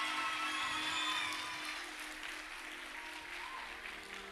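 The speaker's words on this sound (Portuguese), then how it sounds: "Uma salva de palmas para o Cauã, gente." A church congregation applauds, a dense wash of clapping that is loudest at first and then eases off to a softer, steady patter.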